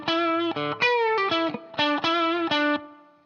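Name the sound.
higher octave part of guitar riff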